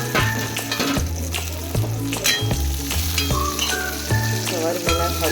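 Garlic frying in oil in a pan for gavar bhaji, a steady loud sizzle broken by repeated scrapes and clanks of a spoon stirring against the metal.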